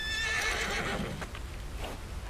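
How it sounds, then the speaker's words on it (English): A horse whinnies loudly and close in the western game Red Dead Redemption 2, one shrill neigh that fades, followed by faint hoof and ambient sounds. "I'm gonna feed my horse first"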